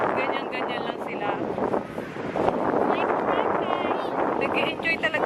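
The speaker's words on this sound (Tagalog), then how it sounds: "medyo maingay, lakas kasi ng hangin" Strong wind blasts across the microphone on a crowded Manila Bay beach, a constant loud rumbling roar with gusts, while a person talks over it throughout.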